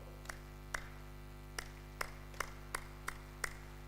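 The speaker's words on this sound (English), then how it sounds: "So we are going to clap 2 followed by 6." Sparse, evenly spaced claps at a university first-year orientation, seven sharp single claps over four seconds heard against a steady electrical hum rather than a full audience in unison.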